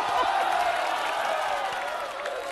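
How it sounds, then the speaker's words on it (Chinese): Studio audience at a Chinese dating show applauds and cheers loudly and steadily, a dense continuous wash of clapping with crowd noise throughout. "这掌声为啥而起呢"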